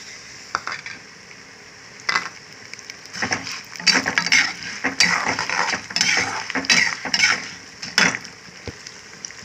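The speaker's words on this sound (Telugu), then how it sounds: "అలాగే మినపప్పు వేసేసుకుందాం కదా వేగుతున్నాయి ఇందులోనే ఆవాలు వేసేసుకుందామండి" Urad dal and mustard seeds, with fenugreek, fry in a hot pan for an old-style curry leaf pickle. A soft sizzle runs under clattering bursts of a spatula stirring and scraping against the metal.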